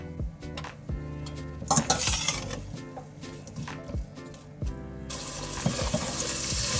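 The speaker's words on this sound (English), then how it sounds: "So just give it a stir like that." Onions cooking in a pot are stirred with a utensil, giving repeated close scrapes and clinks against the pot over a steady sizzle that swells louder toward the end.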